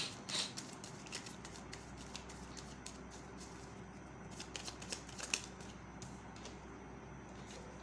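Tarot cards are shuffled and drawn in a quiet room, heard as a run of soft, close riffling flicks and paper slaps, with a few sharper snaps near the start and middle.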